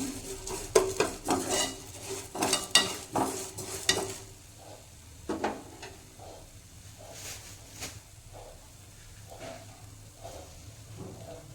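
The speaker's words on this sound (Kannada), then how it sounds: "ಇದೇ ಥರನೇ ನೀವು ಎಲ್ಲದನ್ನು ಚೆನ್ನಾಗಿ ಹುರ್ಕೊಳ್ರಿ. ಹಿಂಗೆ ಕೈ ಆಡಿಸ್ತಾ ಇರ್ರಿ." Spices for bisi bele bath powder being dry-roasted and stirred in a pan, with close, irregular metallic clinks and scrapes, busy at first, then sparser and softer over a faint background.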